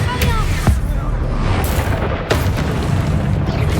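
An Expulso spell explodes in Hogwarts Legacy with a deep, loud boom over a heavy low rumble, and sharper bursts break through the ongoing game noise.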